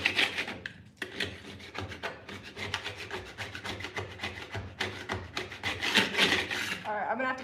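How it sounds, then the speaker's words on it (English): A scraper rasps against a sticker on an antique wooden hutch in repeated short, gritty strokes, close up and uneven in rhythm. "It's not gonna scrape off."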